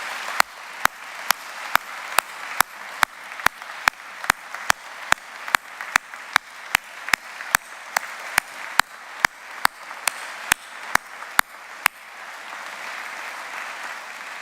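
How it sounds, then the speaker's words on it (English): An audience at St. Martin's Episcopal Church claps in steady applause for about twelve seconds, with sharp regular slaps standing out above the crowd before the clapping cuts off and the room goes quiet. "I want to have a big round of applause for them"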